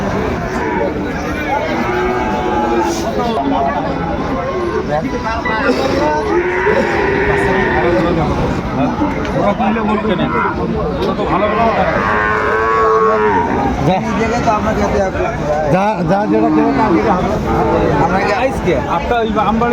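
Sahiwal cattle lowing repeatedly at a busy livestock market, several moos rising over a constant crowd babble and nearby voices.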